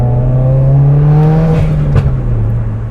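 A 380whp Subaru WRX engine on a canyon road, a loud steady drone heard from the cabin that holds a constant pitch, with a slight dip and a brief transient near the end.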